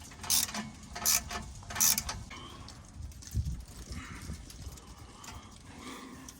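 Ratchet clicks while tightening exhaust bolts on a fifth-generation Camaro, three short bright bursts early on followed by softer rattling and mechanical handling noise, close and fairly quiet.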